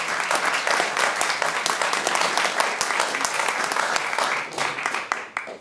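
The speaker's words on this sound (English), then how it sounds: "I want you all to give him a warm applause" Warm audience applause at a live talk event, dense steady clapping from a crowd that lasts several seconds and thins slightly toward the end.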